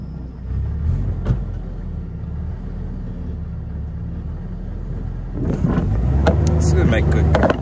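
A rescued junkyard car's engine runs while it is being towed, a low rumbling drone that rises in intensity toward the end, with people talking over it.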